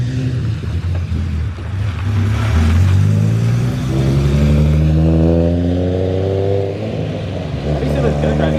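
A built Nissan 350Z engine revs while driving in the rain, a loud, close exhaust note rising and falling in pitch across the clip, with a voice speaking over it.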